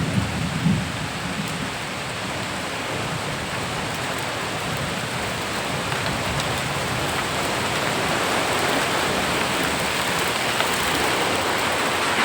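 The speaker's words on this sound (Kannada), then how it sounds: "ಮಳೆ ಶುರು ಆಗೇ ಬಿಡ್ತು" Heavy rain with large, hail-like drops pours down in a steady, loud, dense wash of noise that continues unbroken throughout, with no voices.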